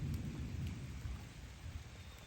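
Rain falls in a forest at night, a soft steady patter with a deep low rumble underneath, continuous and even with no voices.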